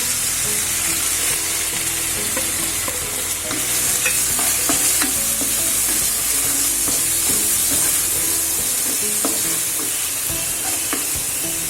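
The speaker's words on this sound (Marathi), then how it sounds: "आता आपण कांदा घालूया" Chopped onion frying in oil in a pan while cooking wild spiny gourd (kartoli) sabzi, with a steady loud sizzle and repeated scraping, clinking stirs of a spoon against the pan throughout, no talking.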